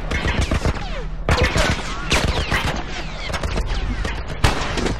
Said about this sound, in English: What are they shooting at us with? Some kind of military turret.